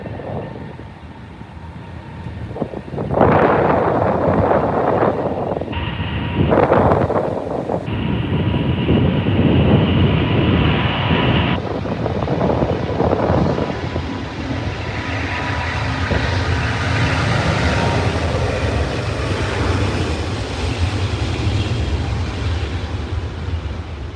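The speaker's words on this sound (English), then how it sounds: "there is a 777 taxiing out" A Boeing 777 jet taxis at Heathrow in gusty wind, its engines producing a loud, broad roar that swells and holds, mixed with buffeting wind noise on the microphone.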